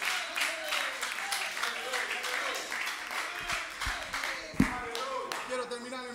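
A church congregation claps along in a steady rhythmic beat during a sermon, moderately loud and continuous, with voices speaking over the clapping.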